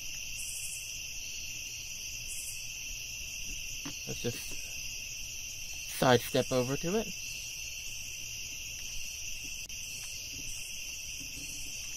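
Cicadas drone in a forest, a constant high shrill buzzing that holds throughout, with a voice speaking briefly and some nearby rustling and movement.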